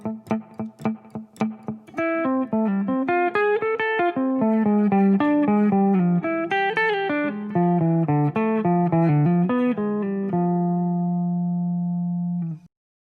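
A jazz guitar plays a single-note line with added triplets over a tune, starting with a few plucked notes and then running into a fast, legato phrase that ends on a sustained held note.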